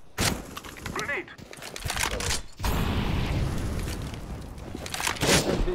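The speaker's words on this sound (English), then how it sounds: "Grenade." A grenade explodes in the video game Counter-Strike: Global Offensive with a sudden loud burst, then a sustained rumbling roar and scattered gunfire while a voice talks over it.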